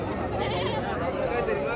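At a Saturday goat market in Shirur, Pune, a wavering bleat rises amid steady crowd chatter and nearby talk.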